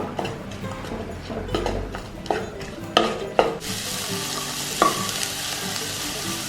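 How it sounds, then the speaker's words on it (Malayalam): Chopped onion sautés in butter with a steady soft sizzle, punctuated by several sharp spoon scrapes and taps against the pan, close up and without talk. "ഒരു സവോള അരിഞ്ഞതും ഇത് ബട്ടറിൽ ഇട്ടിട്ടൊന്ന് വാട്ടിയെടുക്കാം"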